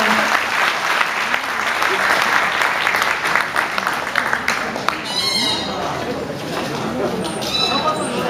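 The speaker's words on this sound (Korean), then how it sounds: "큰 박수 부탁드립니다" A crowd applauds loudly and steadily, dense clapping sustained throughout, with a few faint voices and cheers mixed in.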